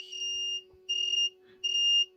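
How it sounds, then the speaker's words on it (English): Small electronic buzzer driven by a logic gate output on a MOSFET presence-sensor circuit, sounding three short, steady high-pitched beeps at a regular rhythm over a faint constant hum. "the output of the second gate is driving this buzzer"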